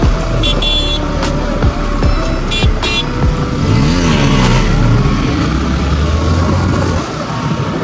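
A KTM Duke 200 BS4 motorcycle revs loudly and close in rising and falling bursts while doing wheelies, over traffic noise with brief horn toots.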